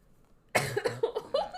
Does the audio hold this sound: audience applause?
no